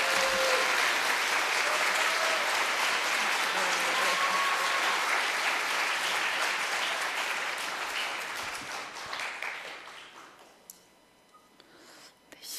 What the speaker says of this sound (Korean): 뜨거운 박수 한번 쳐주시기 바랍니다.